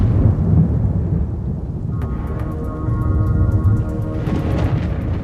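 A lightning storm with steady heavy rain and deep, continuous rolling thunder that swells loud and close, with patter of drops on surfaces throughout and no voices.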